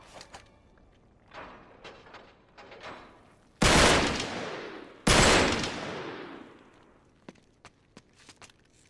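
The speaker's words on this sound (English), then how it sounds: "Back up, I'll shoot the lock" Two sharp, loud gunshots aimed at a lock in Uncharted 3 ring out a second or so apart, each with a long echoing decay, preceded by soft footsteps and light clattering.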